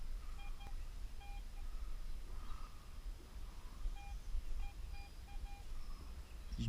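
Short electronic beeps from a Garrett AT Pro metal detector sound repeatedly at a steady pitch, some in quick runs, over a low outdoor forest rumble of wind or handling noise.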